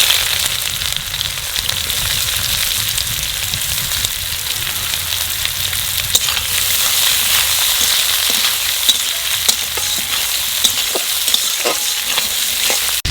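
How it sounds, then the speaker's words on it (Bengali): Sliced onions frying in hot oil with cloves, cinnamon and cardamom for a mutton and chana dish, a loud, continuous close sizzle with occasional stirring scrapes and no voices. "এইবার দিয়ে দেবো পেঁয়াজ।"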